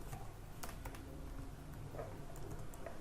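Fingers typing on a computer keyboard while entering a simple Python program, a quiet, steady run of light clicking keystrokes with a few sharper taps, heard alone without talk.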